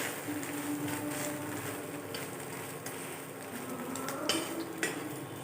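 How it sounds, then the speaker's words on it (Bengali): An egg frying in a pan in a home kitchen, with a steady close sizzle and occasional clinks and scrapes of utensils against the pan throughout. "বরের জন্য একটা ডিম ভেজে নিলাম"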